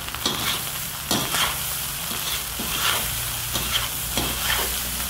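Vegetables frying in a hot pan for fried rice, a continuous sizzle broken by regular scraping stirs roughly every second, close and fairly loud, with no talking.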